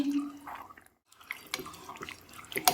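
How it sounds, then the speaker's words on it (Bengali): Water poured into a pan of chicken tikka masala curry makes soft splashing and dripping sounds, quiet and close, with a short silent gap partway through. "এখানে আমি 1 বাটির মতন জল দিয়ে দিচ্ছি, এটা মশলারই জল"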